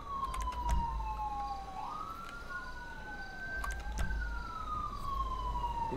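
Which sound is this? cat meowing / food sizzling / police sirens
police sirens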